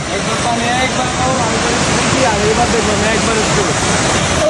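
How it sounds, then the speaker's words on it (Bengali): A steady, loud rush of a waterfall close by on a hill stream, a continuous roaring wash with no breaks. "এই যে ঝর্ণা"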